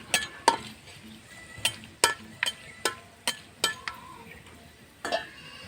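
Chicken and taro frying in a pan over a wood-fired stove, a soft sizzle under a series of sharp utensil clinks and scrapes against the pan, spaced irregularly about every half second to a second.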